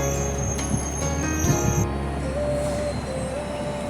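Kanchankanya Express standing at a railway station: a steady low rumble with high squealing metallic tones and a few clanks early on, fairly close and continuous with no talk.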